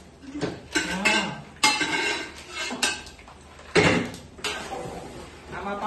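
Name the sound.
pressure cooker being set down among pots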